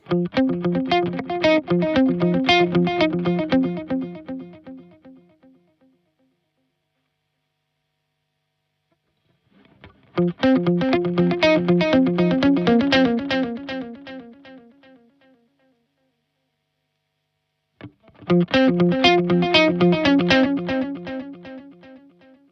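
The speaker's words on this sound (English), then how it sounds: "it's a really, really nice effect, especially on the digital delay" Three bursts of a strummed electric guitar through a Walrus Audio ARP-87 digital delay with dampening off, a shimmering, repeating delay trailing off into silence between phrases.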